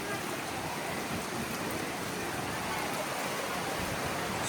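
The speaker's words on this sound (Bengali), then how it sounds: "ঝুম বৃষ্টি, ঝুম।" Heavy rain pours steadily in a dense, unbroken hiss, the first downpour of the year during Ramadan, loud and close throughout with no voices.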